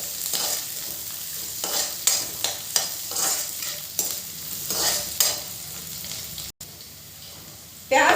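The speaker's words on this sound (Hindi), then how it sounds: "इसको 2 मिनट चलाएंगे। जब तक कि ये थोड़ा सा ट्रांसलूसेंट ना हो जाए।" Chopped ingredients for achari masala bhindi stir-fried in a hot pan: a steady sizzle runs throughout, broken by repeated scraping stirs and spoon knocks, with a brief drop-out near the end.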